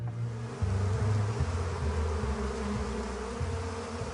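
A bee buzzes in a steady, close, low drone that wavers slightly in pitch, with no other sounds around it.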